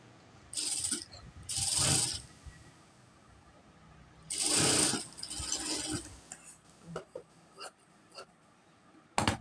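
A sewing machine stitches a pleated nighty in short separate bursts of whirring, two early runs and a longer one in the middle, close and clear, followed by a few quick clicks and handling noises between quiet pauses.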